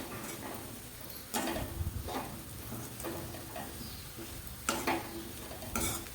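Chapati chivda stirred in a pan with a spoon, a few sharp scrapes and clinks against the metal over a soft steady rustle of the mixture, close and fairly quiet, no voices.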